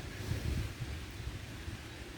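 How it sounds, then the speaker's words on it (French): Steady low wind rumbles and buffets against the microphone, a continuous outdoor gust with no voices, at a carp fishing spot. "Le vent s'est levé, il fait pas chaud là."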